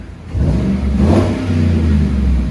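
A 2017 GMC Sierra 5.3-liter V8 with Flowmaster FlowFX dual side-exit exhaust revs hard after a quieter start, a deep, throaty exhaust roar holding steady and loud with no talking.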